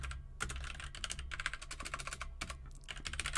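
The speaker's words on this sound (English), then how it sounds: "My keyboard is like further away than it normally is. I'm typoing constantly." Rapid, uneven clicking of someone typing on a computer keyboard at a home desk during a live singing stream, close and steady with short pauses, no voices.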